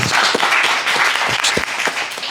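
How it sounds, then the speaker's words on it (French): A live podcast audience applauds in a dense, steady wash of clapping that stays even and fairly loud throughout, with a few sharper claps standing out. "mais l'applaudissement, je pense que ça vaut la peine"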